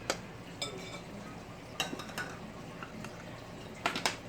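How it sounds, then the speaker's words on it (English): An egg being lightly beaten in a bowl for a chicken Parmesan meatloaf, with a few sharp clinks of utensil against the bowl scattered among quieter scraping and sloshing. "I've got an egg that I'm going to beat lightly"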